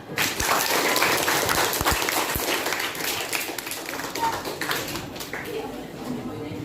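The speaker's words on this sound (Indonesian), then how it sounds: "Silakan tepuk tangan." Classroom audience claps for a group presentation, a lively burst of applause that slowly thins out, with a few sharp close claps early on and a voice speaking over it.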